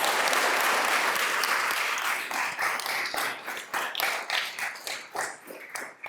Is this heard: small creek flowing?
no